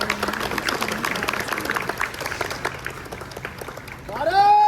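A crowd claps steadily after a Republic Day flag hoisting, with voices mixed into the applause. Toward the end, a louder tonal sound swells in.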